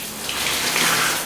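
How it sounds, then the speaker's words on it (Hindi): A Cera health faucet for a toilet sprays water in a steady, loud, high-pressure hiss that continues unbroken, with no voices over it. "अभी पानी चालू करूंगा। इसका स्प्रे मस्त है, देखिए फ्रेंड्स इसका स्प्रे कितना अच्छा आ रहा है"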